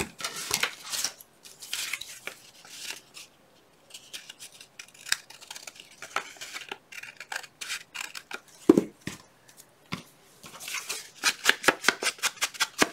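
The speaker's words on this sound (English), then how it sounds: "Where are my bigger scissors?" Crisp scissor snips cutting paper, some in quick bursts and some spaced apart, close by with small handling rustles between cuts.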